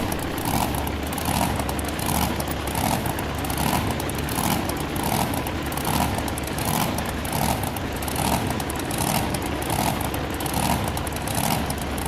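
Monster trucks at a racing competition in Hagerstown produce a continuous, loud, rough engine roar with a steady pulsing rhythm, heard from a distance across an arena and free of any talk.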